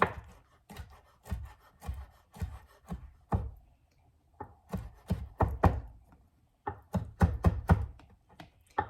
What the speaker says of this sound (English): So I'm really just gonna like chop it up quite small.